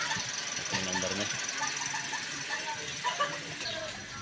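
A 2016 Toyota Vios engine idles after an exhaust leak repair with a replaced gasket and bolt, giving a steady rough running drone with some rattly pulses. Nearby talk runs over it in places.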